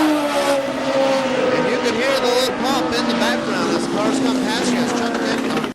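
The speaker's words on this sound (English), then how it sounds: "you can hear the little pump in the background as cars come past you, as Jeff Denny" Race cars roar past at KilKare Speedway, engine notes rising and falling as they sweep by one after another, with a commentator talking over the loud, continuous racing noise.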